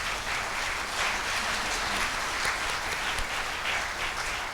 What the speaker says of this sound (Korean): 여러분 큰 박수를 올려주시기 바랍니다